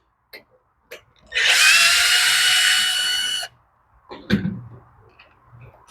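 A power tool whirs loudly for about two seconds while backing bolts off the carburetor of a Honda HRX 217 lawn mower, with a few clicks before and a cough and clattering handling noises afterward.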